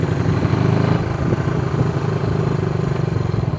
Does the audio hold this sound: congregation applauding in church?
no